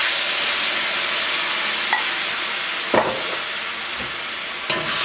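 Soy and hoisin sauce sizzle in a hot pan with stir-fried eggplant, a loud continuous hiss broken by a few stirring scrapes, close up with no voices.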